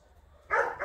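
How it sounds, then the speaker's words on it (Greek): Dogs whimper and yelp eagerly beside an outdoor charcoal grill while pork souvlaki is prepared. After half a second of near quiet, bursts of whining vocalizations come up close and fairly loud. "Τα σκυλάκια έχουν πάρει χαμπάρο ότι θα φάνε."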